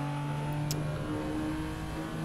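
A Japanese car's engine drones steadily at high revs during a lap in Assetto Corsa, a continuous, even tone with no talk over it.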